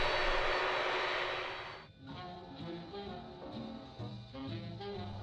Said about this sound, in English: this jet engine of a gas turbine masking my voice